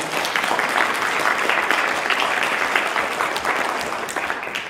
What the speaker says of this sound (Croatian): Malo prerano ste pljeskali, još nisam rekla.